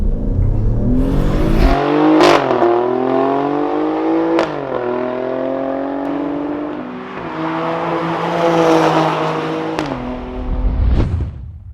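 An Alfa Romeo Stelvio Quadrifoglio with its 2.9-litre engine at the Goodwood Festival of Speed revs hard and close, repeated climbing surges broken by sharp gear-change pops, loud throughout with no talk.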